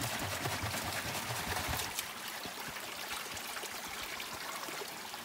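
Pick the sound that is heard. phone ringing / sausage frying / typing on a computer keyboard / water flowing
water flowing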